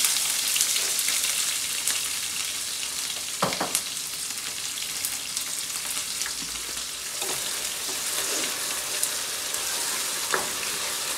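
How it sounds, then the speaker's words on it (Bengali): Onion, green chili, garlic and two dried chilies fry in hot oil on a stove, giving a steady, close sizzle throughout with occasional stirring scrapes and pops. "2টা শুকনা মরিচ দিয়ে দিলাম। তো পেঁয়াজ কাঁচা মরিচ আর রসুন"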